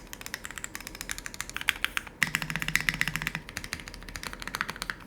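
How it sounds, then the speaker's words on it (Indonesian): Fast typing on a mechanical keyboard with a hollow, pinging resonance, a dense run of close, crisp clacking keystrokes with a few heavier presses in the middle. "terus kalian ketik ada suara kayak ping ping ping ping ping gitu ya"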